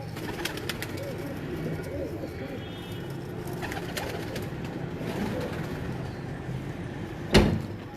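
Breeder pigeons in Kasur coo softly and repeatedly while being handled close by, low rolling calls over faint room noise, with one sharp click near the end.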